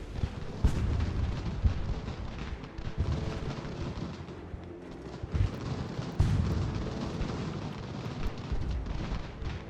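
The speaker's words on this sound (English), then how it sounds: "Cannons, can you shoot into that absolute mass there?" Cannons in the video game Ultimate General: American Revolution fire in repeated deep booms across a battlefield, the blasts overlapping with a constant rumble of musketry.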